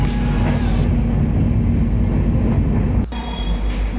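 The Howrah Mumbai Mail pulls into Gaya Junction in Bihar, heard from inside an AC 3 tier coach as a loud, steady rumbling roar that drops abruptly near the end.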